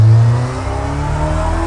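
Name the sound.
car engine revving as it pulls away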